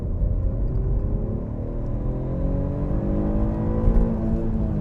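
An Alfa Romeo 156 GTA with a 3.2-litre V6 pulls hard in second gear, its engine note climbing steadily in pitch with a deep, rising exhaust drone, close and loud with no talking.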